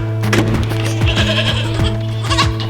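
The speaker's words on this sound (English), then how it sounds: "I'm gonna go feed Lambert and then get a few chores done with the goats" A bottle-fed young goat bleats repeatedly at close range, several short wavering cries in quick succession over a steady low mechanical hum.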